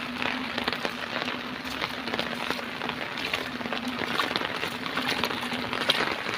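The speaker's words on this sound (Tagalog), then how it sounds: "Grabing ulan." Heavy rain falling outdoors near military barracks, a steady, dense hiss with a low continuous hum beneath, close and unbroken throughout.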